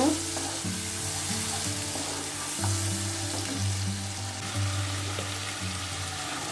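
Onion, ginger and chili paste sizzles steadily in hot oil for a fish curry, a loud continuous frying hiss with occasional stirring scrapes and no talking.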